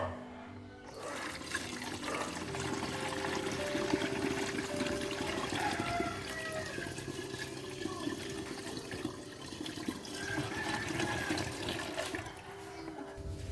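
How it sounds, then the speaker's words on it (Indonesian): About two litres of water pour steadily into a container for a home garden fertilizer mix, a continuous splashing, gurgling rush at close range that shifts in pitch as the level rises. "Selanjutnya juga saya akan tambahkan 2 liter air ya."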